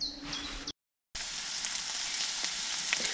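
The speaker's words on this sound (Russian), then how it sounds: "жарим этого одного окунька, которого все-таки Коля поймал вчера вечером" Steady frying sizzle from a perch in a pan at a riverside campsite, broad crackling hiss with a brief silent gap near the start, then continuing evenly.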